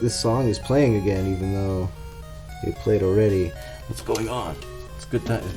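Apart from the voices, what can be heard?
No everyday noises stand out.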